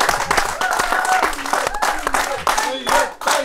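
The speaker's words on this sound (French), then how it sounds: "Et on l'applaudit très très fort." A talk show studio audience in Algeria claps energetically, the applause mixed with overlapping voices and cheering that rise and fall over the clapping.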